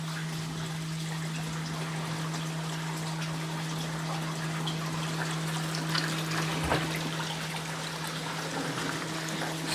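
Water runs through the tubes of an aquaponic system with a steady trickling, splashing flow under a constant low electrical pump hum, close and moderately quiet.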